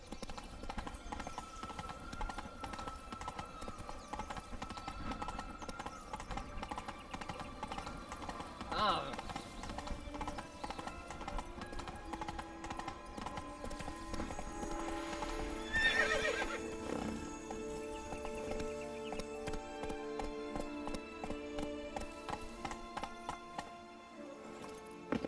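The horse Roach in The Witcher 3 galloping with rhythmic hoof clip-clops and a whinny, set against game music and ambience, with a voice speaking briefly.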